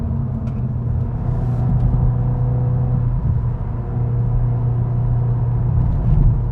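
A Cupra Leon's engine pulls hard under acceleration, a loud, steady low rumble with a rising drone heard from inside the car, continuous throughout with no talk.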